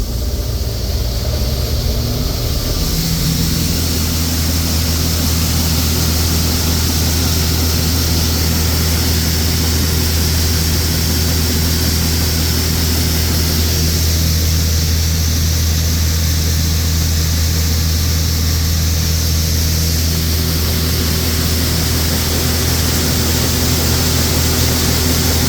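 Engine of a 1982 John Deere 6620 Turbo combine on a family farm, a loud, continuous low drone with steady high whine that shifts pitch slightly as the throttle is raised, heard from inside the cab with no speech.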